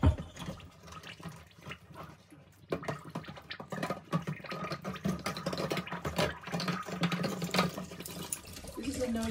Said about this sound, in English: allow them to partly fill up with the liquid and give them a shake